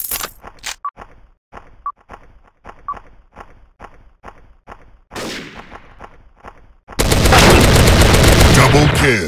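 A TMP submachine gun in a Special Ops shooter fires a steady string of crisp shots at a quick, even pace, then a sudden loud, sustained roar of noise takes over near the end.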